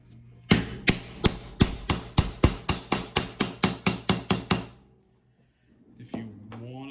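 A hammer strikes leather to dome it for a cigar stand in about fifteen evenly spaced, sharp blows. Silence follows, then a brief softer rustle.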